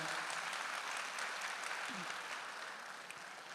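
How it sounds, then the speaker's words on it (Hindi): Steady applause from an audience cheering for a guru at a gathering: a dense, even wash of clapping held at a fairly low, distant level throughout. "तो एक बार गुरुजी के लिए जोरदार तालियां हो जाए"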